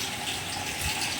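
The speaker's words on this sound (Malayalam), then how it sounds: "വെള്ളം നിറഞ്ഞോട്ടെ" Tap water gushes steadily into a vessel, a continuous, fairly even rushing and filling sound, close by with no talk.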